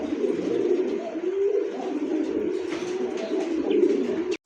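Several pigeons coo close by in a continuous, overlapping low murmur of soft throaty calls, steady throughout and ending abruptly.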